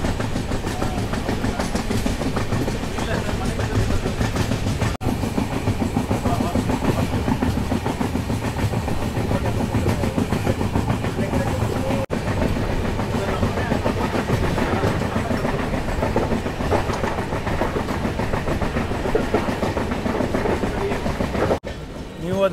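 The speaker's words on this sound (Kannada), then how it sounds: "ಇದು 11:47ಗೆ ನಾವು ಹೊರಟ್ಬಿಟ್ಟಿದ್ದೀವಿ ಸಕಲೇಶ್ಪುರ ರೈಲ್ವೆ ಸ್ಟೇಷನಿಂದ" A passenger train pulls out of Sakleshpur railway station on the Mangaluru–Bengaluru line, its steady rumble and rhythmic wheel clatter continuous and close for the whole stretch, with faint voices now and then.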